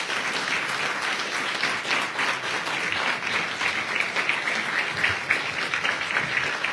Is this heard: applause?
yes